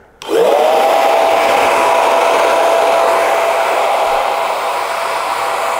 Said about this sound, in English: Diffuser on, medium speed,